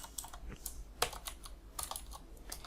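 Code being typed on a computer keyboard during a React programming session, with quick, uneven bursts of close key clicks and short pauses between runs, and no talking.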